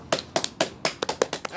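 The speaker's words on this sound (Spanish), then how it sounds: "Un aplauso, por favor." About eight sharp hand claps in an uneven rhythm to close a class session, fairly close and brief, with no voices.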